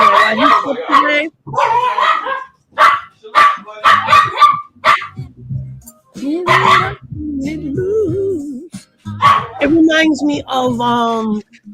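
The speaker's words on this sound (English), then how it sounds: "Sorry about the dog barking." A dog named Max barks repeatedly in bursts close by, with some whimpering yips, while someone talks between and over the barks.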